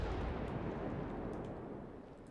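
A loud, sustained explosion rumble with fire roaring from a warship in the naval combat game World of Warships, a dense low booming wash that slowly fades over a couple of seconds with no talk.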